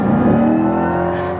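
A 2025 Corvette E-Ray's electric motor whines as the car accelerates, a loud, close, tonal whir that holds steady through a short pull with no talking.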